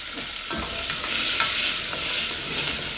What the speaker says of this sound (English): We can get the mirepoix in now. Onion, carrot, celery.